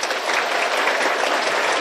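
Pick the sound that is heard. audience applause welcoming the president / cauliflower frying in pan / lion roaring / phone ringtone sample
audience applause welcoming the president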